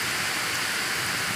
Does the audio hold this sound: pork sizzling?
no